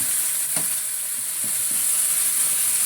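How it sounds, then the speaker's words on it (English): Diced chicken fries without oil in a Saladmaster skillet, giving a steady, close, even sizzle with faint soft taps. "now I'm going to leave it to fry"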